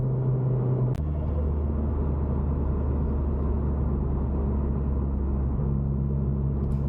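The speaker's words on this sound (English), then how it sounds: "this video of someone allegedly testing launch control at 6 AM on an empty road in the countryside" A car idles with a deep, steady rumble on an empty countryside road at dawn, then a sharp click and the engine note shifts as launch control is tested; the tone stays close and constant throughout.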